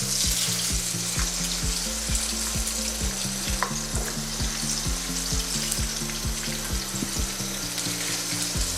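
Cauliflower pakoras fry in hot oil, a loud steady close sizzle and crackle with faint scraping as pieces are turned, and no talk.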